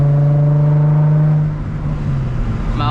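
An Infiniti G35 with a six-speed manual and the muffler and resonator removed drones loud and close at a steady pitch, then eases off briefly before the throaty exhaust swells again.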